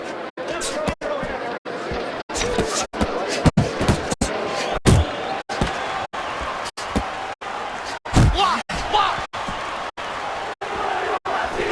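Rapid punches thud and smack in a boxing video game, a steady run of sharp impacts roughly every half second, layered under continuous commentator talk and crowd noise.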